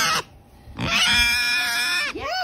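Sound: pig grunting

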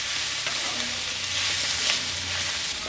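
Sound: onions and curry leaves sizzling while frying in a pan

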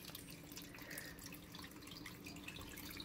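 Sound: water running into a garden pool pond

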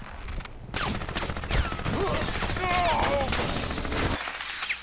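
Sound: gunfire from weapons in video game Crysis

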